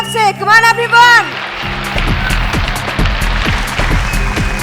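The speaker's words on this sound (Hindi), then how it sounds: "पहले ले एक बार जोरदार ताली हो जाए आप सभी की तरफ से" Audience applause at the Green Cinema Awards 2025, a Bhojpuri film awards show, swells into a dense, loud crowd clapping after a host's voice, continuing steadily over a low rhythmic thump.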